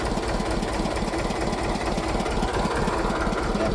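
A new wooden trawler boat's engine chugs on a river, a loud, close, rapid, regular knocking throb that holds steady throughout, with no talk over it.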